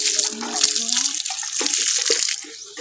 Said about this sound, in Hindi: सारे में पानी डालते हैं सबसे पहले हम।